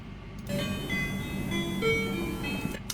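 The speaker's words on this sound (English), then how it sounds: "the first shot of this scene and the second shot have different bell sounds" A short film scene carries an ice cream truck's bell jingle, a steady chiming melody of bright tones playing over a low, continuous background rumble, with no one talking.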